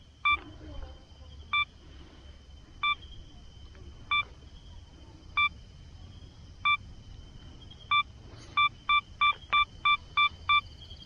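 A camera self-timer set to ten seconds beeps during night-camping astrophotography: steady single chirps about a second apart, then a quicker run of beeps at the end, clear over a soft outdoor background with no talking.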